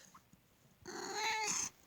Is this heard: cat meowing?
yes